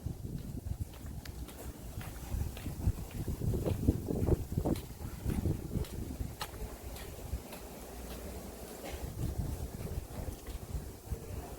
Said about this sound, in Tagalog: Hinahinay nagkusog ang hangin,